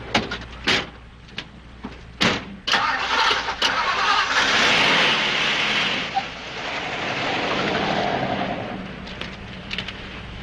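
A car door clunks shut and the engine cranks and catches, then the motor revs and settles into a steady mid-pitched drone as the car pulls away and drives off, fading slightly toward the end.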